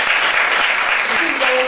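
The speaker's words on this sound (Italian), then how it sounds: "Un applauso per Matteo." A studio audience applauds in a dense, steady burst of clapping, loud and close, with a voice briefly audible through it.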